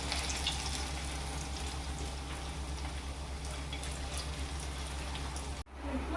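Shepu (dill) vadi frying in hot oil over a low flame, a steady soft sizzle that runs evenly until it cuts off near the end.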